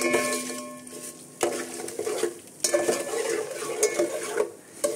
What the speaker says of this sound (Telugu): ఇప్పుడు నేను కలుపుతున్నాను